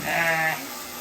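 A single sheep bleats once, close and clear, a wavering half-second call at Shepherd's Cross farm in Claremore, Oklahoma, then quiet background.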